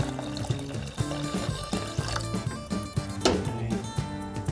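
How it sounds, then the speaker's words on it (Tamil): Water poured into a pressure cooker over moong dal lentils and tomatoes for sambar, a continuous close splashing pour under background music. "கொஞ்சம் முழுகிற அளவுக்கு தண்ணி ஊற்றிக்கங்க."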